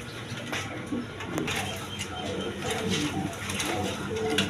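Chuya Chandan and white Siraji pigeons coo softly amid rustling and faint background voices, the low cooing recurring steadily throughout at moderate distance.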